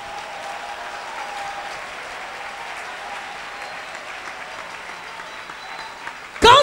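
A church congregation applauds steadily in a sustained wash of clapping, moderately loud and fairly even, with a sharp louder burst right at the end.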